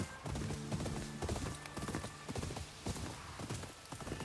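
Horse in the Ghost of Yotei video game clip-clops along in a quick, steady trot of close hoof strikes, with a brief whinny near the start, over a soft game soundscape.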